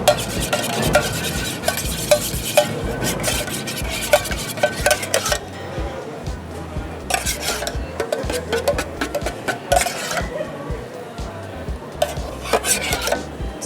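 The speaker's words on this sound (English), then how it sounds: "Give it a good mix." Chili crab sauce being stirred in a pan, made with chili sauce, ketchup and sesame for a Singapore chilli crab with British brown crab, a utensil scraping and clinking steadily against the pan with a soft sizzle underneath.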